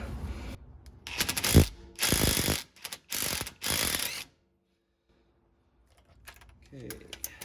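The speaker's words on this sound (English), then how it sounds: "I'm going to go ahead and take this bolt out" Ratchet wrench clicking in several bursts as a bolt is backed out of the rear drive shaft on a 2019 Ford Ranger, close and loud, then a pause before faint handling noises.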